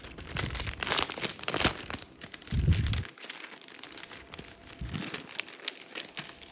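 Packaging around a box of stickers being torn open, with crisp crinkling and tearing bursts at close range, loud rustles alternating with brief pauses.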